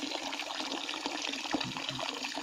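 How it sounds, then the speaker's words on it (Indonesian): Water from a tap fed by a hydraulic ram pump, at an outdoor washing spot, runs in a steady, fairly loud rushing splash with no talk. "sekarang saya buka di sini di keran yang"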